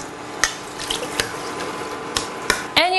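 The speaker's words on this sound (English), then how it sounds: "I'm gonna add a little bit of water." Water poured into a cooking pot of mung bean and coconut soup with eggplant, splashing steadily with a few sharp clinks and a louder gush near the end.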